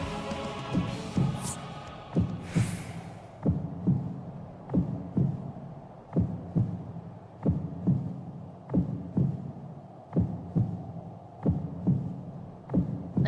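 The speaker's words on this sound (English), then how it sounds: "I feel like I hear my heartbeat." A steady, loud heartbeat thumps in a Final Fantasy XIV cutscene as a character loses consciousness after a blast, double-pulsed beats repeating about once a second over a low hum, with no talking.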